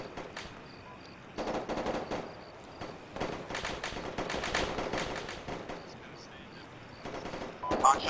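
Bursts of automatic and single-shot gunfire in Arma 3 ring out in repeated volleys of moderate loudness, some sounding distant, with brief radio-style voices in between.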